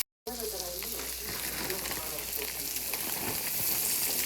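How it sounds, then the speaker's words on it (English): Onions and cabbage for coleslaw fry in a skillet, giving a steady, close sizzle that begins after a short silence and grows slightly louder toward the end. "we're using our skillet and we're going to cook up our coleslaw, which is AKA cabbage"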